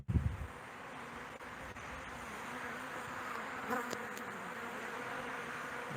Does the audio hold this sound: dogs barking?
no